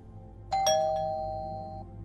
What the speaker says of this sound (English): Her breath hitched when he rang the doorbell.